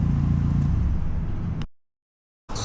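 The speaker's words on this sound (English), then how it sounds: "Can rev it up" A Subaru STi engine being revved after a Link ECU install, a loud, close, sustained roar that cuts off abruptly into silence and then starts up again.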